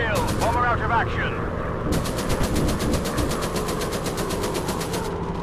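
Rapid machine gun bursts from a WWI warplane in the VR dogfighting game War Planes, fired at night, rattling on in a sustained stream over a loud engine drone while a voice talks over the action.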